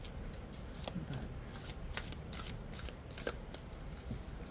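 A tarot card deck is shuffled close by in quiet, repeated riffling bursts with soft crisp card snaps at an uneven pace.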